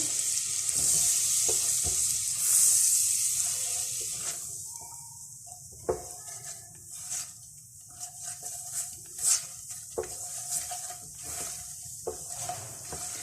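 Cornflour and butter are worked together in a pan for a pizza sauce, with a soft sizzle fading under intermittent spoon scrapes and clinks against the pan, no talking.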